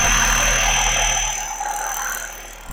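A 12V car alternator converted to a brushless motor spins fast, giving a dense high whine with a steady piercing tone over a low hum, loud and close, easing slightly toward the end.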